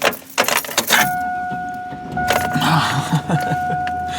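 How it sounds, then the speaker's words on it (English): Keys jangle close by, then a pickup truck engine cranks and catches into a steady idle that runs under a faint electronic chime, with no talking. "So I'm going to start my truck."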